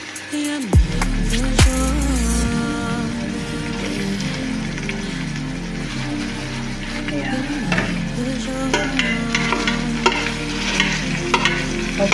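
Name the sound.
ground beef frying with onions in a pan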